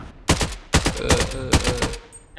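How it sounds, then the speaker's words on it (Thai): Automatic gunfire in the shooter video game BloodStrike, several sharp bursts of rapid shots in quick succession, loud and close, with brief gaps between volleys. "ได้ยินเสียงปืนยิง"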